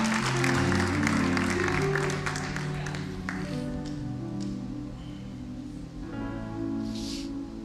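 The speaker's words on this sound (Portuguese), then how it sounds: "Você pode aplaudir esse texto, querido?" A church congregation claps in response to a pastor's prompt during a sermon, a dense patter of applause over sustained organ or keyboard tones that continues throughout.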